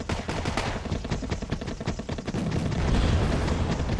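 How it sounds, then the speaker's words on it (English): Sustained long-range machine gun fire in the wargame Wargame AirLand Battle, dense overlapping bursts and rapid rattling shots with booming impacts, loud and continuous throughout with no talk. "Shooting these guys at long range, machine guns"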